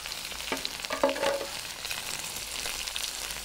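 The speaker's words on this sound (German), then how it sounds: "Und die geben wir jetzt hier rein und lassen das Ganze hier drin mal schön gemütlich anbraten." Chorizo slices fry in clarified butter inside a Dutch oven, a soft, quiet sizzle with a few light clinks and stirring noises and no voices.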